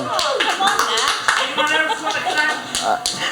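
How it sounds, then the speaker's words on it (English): Pub crowd applauding in a lively room, steady clapping mixed with chatter and voices throughout, fairly close and loud. "Give Liz a round of applause as well."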